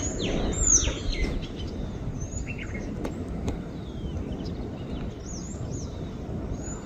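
Short high chirps and tweets of a bird in an almond tree scattered through steady outdoor background noise, fairly faint and irregular.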